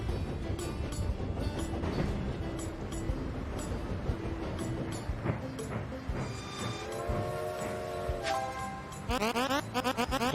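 Train rolling along rails in the video game Tiny Rails, a steady low rumble with rhythmic clicks, some tonal chimes and a brief burst of rapid clatter near the end.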